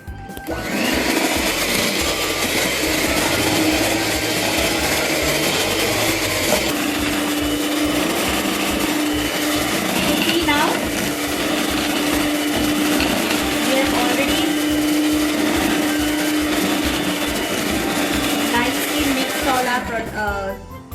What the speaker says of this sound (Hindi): हमें सिर्फ इसको एक बार अच्छे से सबको मिक्स कर लेना है